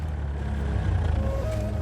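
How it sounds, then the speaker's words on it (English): A heavy truck engine in the Battlefield 1 video game rumbles low and steady, fairly close, with a faint rising whine over the drone. "Where's that truck? I can hear the truck."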